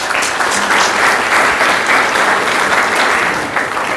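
Sustained applause from a large crowd at a school celebration, steady and loud throughout, with dense clapping and no break.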